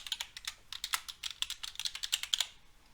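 Quick bursts of keystrokes clatter close on a computer keyboard while a library password is entered, a fast irregular run of crisp clicks with brief pauses and no talking.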